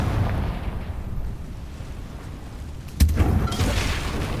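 A Confringo fire spell in the Hogwarts Legacy video game: after a low, steady rumble, one sudden loud blast hits and then trails off into a roaring, crackling tail.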